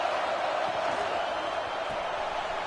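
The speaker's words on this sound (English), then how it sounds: "This crowd bringing the energy and noise early." Steady stadium crowd noise from a college football video game, a dense continuous roar at even level with no distinct cheers or breaks, heard alone throughout.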